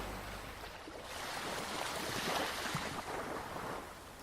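Ocean waves wash and roll in a broad, steady rush of surf, swelling slightly midway, with no voices.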